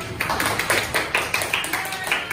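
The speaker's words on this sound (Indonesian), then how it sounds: "Tepuk tangan." A classroom of pupils clapping together in a quick, fairly regular rhythm, each sharp clap distinct and close, running steadily for a couple of seconds.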